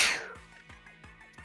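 One sharp, close sneeze bursts out at the start, loud and breathy, then fades into quiet background sounds from a Splatoon Tableturf match.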